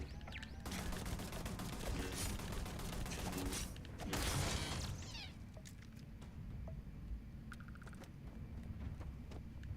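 Dense bursts of automated turret fire from the Starfield video game, rattling loudly through the first few seconds, then thinning to scattered mechanical clicks and tones over a steady background din.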